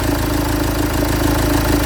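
A van engine idles steadily with a continuous, even low rumble and a faint rhythmic knock, close and loud throughout with no talking.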